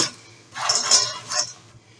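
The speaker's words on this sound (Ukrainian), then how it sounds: "В глибоку миску, в якій ви будете це все змішувати, висипаємо горіхи" Nuts are poured into a deep mixing bowl in two short clattering rushes about half a second apart, close and fairly loud against a quiet background.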